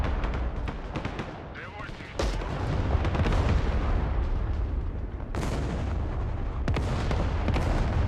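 Bombing explosions in the modern warfare strategy game Broken Arrow, with heavy booms and sharp blasts rolling over continuous battle noise, loud and close, while someone talks throughout.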